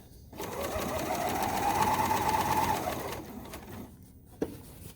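A serger fitted with an Elasticator foot runs steadily for about three seconds while it gathers elastic, a mid-pitched machine whir that rises and then fades, followed by a short quiet stretch and one sharp click.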